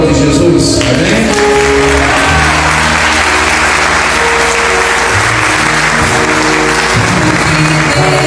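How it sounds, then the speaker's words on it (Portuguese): A Sunday church congregation applauds loudly and continuously, dense clapping over sustained music chords, with voices faint underneath. "Você pode aplaudir Jesus?"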